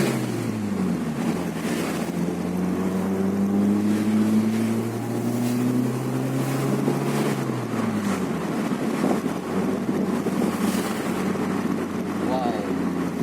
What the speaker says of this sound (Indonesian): Jadi bisa teman-teman dengarkan suara knalpotnya.